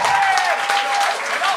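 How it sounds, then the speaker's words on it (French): Audience applause at a televised talent show, dense continuous clapping from a studio crowd, steady and moderately loud for the full moment. "Une bonne main d'applaudissements, s'il vous plaît."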